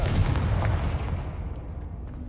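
A Confringo fire spell blast in Hogwarts Legacy on PS5, a loud booming burst at the start that rumbles and fades away over about two seconds.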